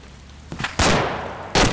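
Two sharp, loud gunshot cracks from a sniper rifle in the military shooter ArmA 2 with the ACE mod, the second following the first by under a second, each ringing out briefly.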